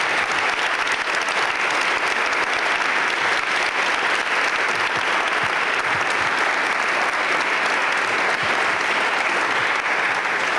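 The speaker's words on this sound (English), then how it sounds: "let's give the panel a round of applause" An audience at a public lecture on health coverage gives a panel a steady round of applause, dense and sustained clapping from a large crowd filling the room for about ten seconds.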